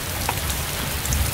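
Rain in the survival video game DayZ falls as a steady, dense patter with scattered droplet ticks, constant and moderately loud with no voices.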